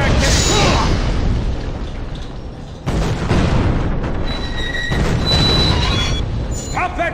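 A cannon blasts a barricade in the Western game Gun, with heavy booming explosions and crashing debris. A second loud burst comes midway, and scattered noise trails off after it.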